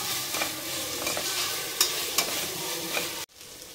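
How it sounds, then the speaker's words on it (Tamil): Ginger and garlic sauté in a hot pan with a steady close sizzle, broken by a few sharp stirring scrapes, before the sound cuts off abruptly near the end. "இஞ்சி பூண்டு சேர்த்துட்டேன். அதோட பச்சை ஸ்மெல் வர போகிற வரைக்கும் நல்லா வதக்கிக்கணும்."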